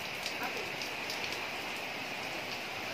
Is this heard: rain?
yes